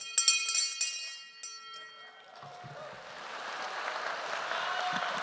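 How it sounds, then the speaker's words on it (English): A large bell rings at a Rockford University commencement ceremony, striking a few loud resonant clangs that hang and fade, after which crowd applause swells and carries on to the end. "It is a big bell."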